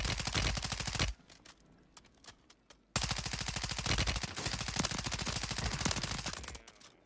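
Rapid automatic gunfire in Call of Duty Warzone on Rebirth Island, loud sustained bursts that break off for a couple of seconds of near quiet before the shooting resumes and runs on steadily.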